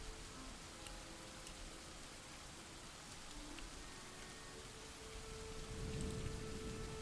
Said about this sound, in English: it just will not stop raining here.